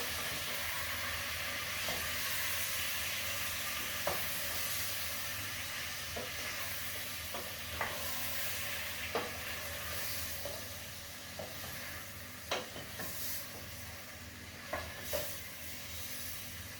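Chillies and tomatoes sizzle steadily in a pan for a Bengali Sylheti tomato tenga, with scattered scrapes and clicks of a spoon stirring through the hiss, close and alone without talk.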